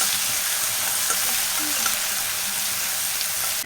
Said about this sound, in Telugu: అల్లం వెల్లుల్లి పేస్ట్ పచ్చివాసన పోయేంత వరకు ఫ్రై చేసుకుందాం